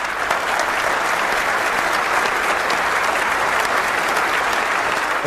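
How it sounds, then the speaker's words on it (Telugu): A television game show studio audience (Evaru Meelo Koteeswarulu) breaks into loud, sustained applause, a dense, even wash of clapping that carries on steadily from start to finish. "give him a big round of applause"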